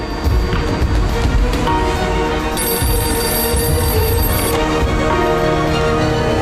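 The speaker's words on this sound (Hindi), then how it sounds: "जाओ फोन उठा लो" A telephone bell rings steadily and loudly over a busy background, with a bright high tone layered in partway through.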